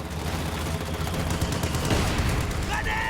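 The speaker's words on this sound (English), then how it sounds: "Mortar landing on those Fallschirmjäger." Dense battlefield gunfire and muffled explosions from mortars and grenades in a WWII strategy video game, a continuous loud barrage with overlapping rapid shots and low booms throughout.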